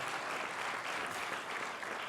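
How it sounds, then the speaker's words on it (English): Audience applause at a university music school screening event, a steady wash of many hands clapping throughout with no pauses. "Yeah, I'll take the applause."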